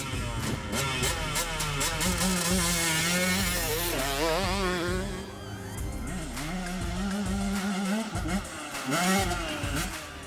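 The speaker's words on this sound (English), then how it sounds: "Here it is, 125cc KTM bike. Let's try to make a drag race on a short distance." A 125cc KTM gasoline enduro motorcycle drag-races an electric DWX 250 enduro bike over a short distance, its engine revving loudly with rising and falling pitch sweeps, continuous and close throughout.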